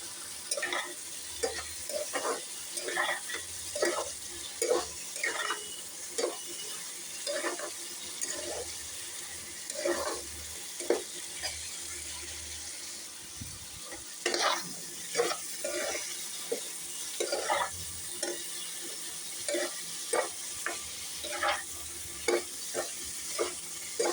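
Spice masala being stir-fried in a pan at home, close and fairly quiet, a soft sizzle under steady, repeated spatula scrapes with no talking.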